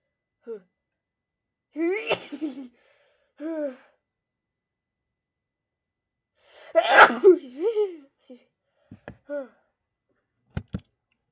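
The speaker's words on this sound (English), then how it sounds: "I need to sneeze" Close, loud sneeze after a few sharp gasping inhales, with a second big burst later and some small clicks and breaths trailing off.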